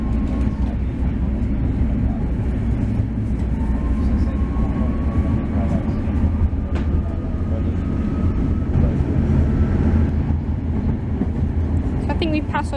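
A train ride near a Prague station, passing under a metro line: a steady, loud low rumble of wheels and carriage noise fills the whole stretch, with faint squeals and a brief high screech near the end.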